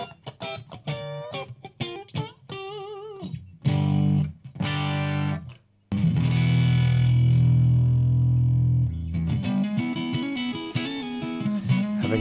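Overdriven electric guitar, a Stratocaster with the preamp driven hard, plays chords and picked phrases, distorted and sustained with a reverb tail, a brief pause midway before strumming resumes.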